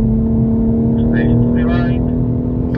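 A BMW M3/M4 Competition drives on a race circuit in fourth gear, its engine droning loudly and steadily from close by, with a slight rise in pitch.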